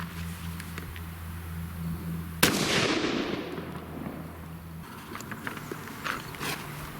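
A single sharp, loud report from a 5.56 rifle fired at pistol-rated body armor, with a long fading ring after it over a steady low hum and a few faint clicks.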